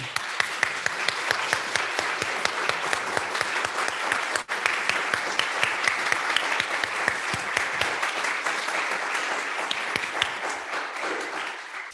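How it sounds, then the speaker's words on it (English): A church congregation applauds steadily for several seconds during an Easter Sunday service, a dense wash of clapping that holds its level before tapering slightly at the end. "And a round of applause, please, for Tom, Peter, and Joy."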